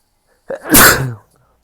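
A single sharp sneeze, close and loud, with a short intake before the burst, then silence.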